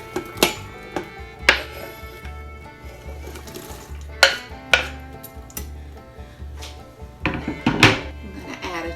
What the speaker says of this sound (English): Now I'm going to add a medium onion that I've diced.